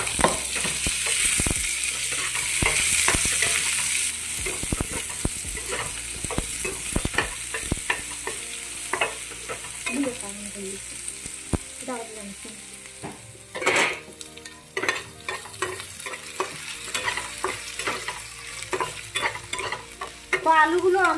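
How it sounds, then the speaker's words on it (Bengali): Chopped potatoes fry loudly in a pan with a steady sizzle, broken by repeated scraping and clacking strokes of a spatula as they are stirred, close and continuous with no talk. "আলুগুলো আমার অল্প অল্প ভাজা হয়ে গিয়েছে"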